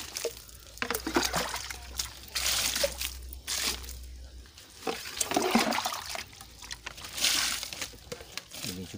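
Water laced with JMS fertilizer is poured over a black pearl guava plant, making close splashing and sloshing in uneven bursts across the soil and leaves, with faint talk in the background.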